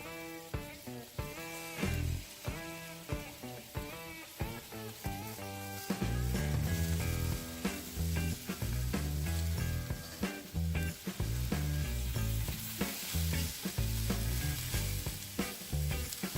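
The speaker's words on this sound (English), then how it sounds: "We'll add in the hibiscus flower and allow that to saute in with the onion and pepper mixture." Hibiscus flowers sauteing in a pan with onions and peppers, a loud continuous sizzle and crackle broken by frequent clattering stirs and scrapes of the utensil.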